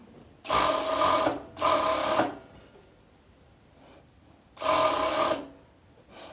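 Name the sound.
sewing machine stitching a sleeve onto pajama top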